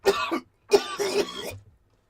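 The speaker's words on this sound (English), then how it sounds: "That's some rough coughing right there." Rough, hoarse coughing up close: a harsh double cough, a short pause, then a longer raspy burst of several coughs before silence.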